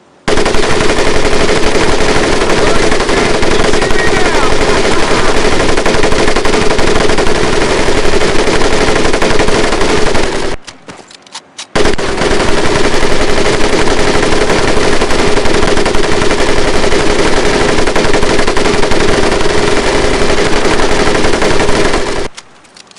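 A mounted machine gun fires in the video game Medal of Honor: Pacific Assault, with two long, loud, continuous bursts of rapid gunfire separated by a short pause.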